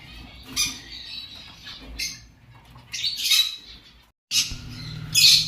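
An adult male sun conure parrot squawks in several loud, harsh bursts with short gaps between them, close to the listener, alongside some quieter background noise.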